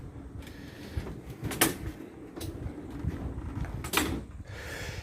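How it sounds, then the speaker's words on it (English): A top drawer on custom-built work ute drawers slides out with rumbling runner noise and two sharp knocks, close by with no talking. "Now the top drawer here, it's once again, so I'll pull that out."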